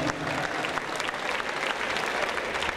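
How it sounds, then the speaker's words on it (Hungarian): A school graduation ball audience applauds the 12th-grade folk dancers with steady, dense clapping that holds at an even level throughout, moderately distant and with no voices over it. "Egy nagy vastapsot kérünk nekik"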